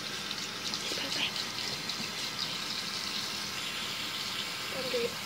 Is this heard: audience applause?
no